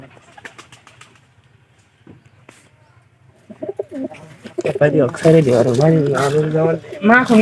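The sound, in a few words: white pigeons cooing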